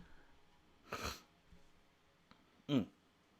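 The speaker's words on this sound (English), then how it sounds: "I will still probably be sniffling and stuff from the bloody nose" Two short, sharp nasal sniffs or snorts from a person with a recent bloody nose, close and fairly quiet, set apart by about two seconds of near silence.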